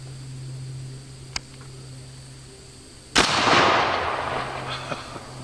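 Black powder rifle loaded with Black Canyon powder fires one sharp, loud report at an outdoor range, followed by a long rumbling decay. A faint click comes earlier, and the setting is otherwise quiet.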